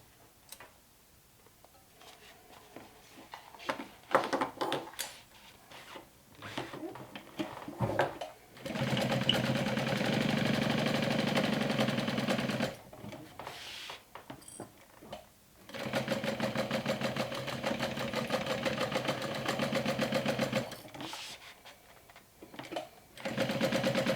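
A sewing machine stitches a fabric backpack panel in several sustained runs of steady rapid whirring, separated by short pauses with small clicks and handling noises.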